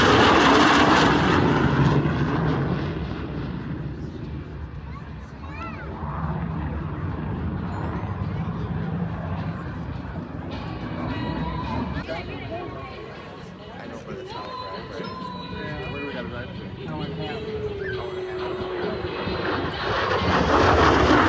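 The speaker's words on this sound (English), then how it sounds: "Back in for one more high-speed pass" A fighter aircraft roars past in a high-speed pass at the EAA AirVenture 2025 air show, a loud sustained engine drone that swells, dips and returns as a commentator talks over it.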